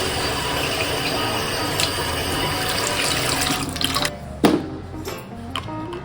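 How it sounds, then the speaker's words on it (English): Tap water runs into a bottle, a steady splashing stream under faint background noise, with a few knocks and clunks near the end. "fill it with water."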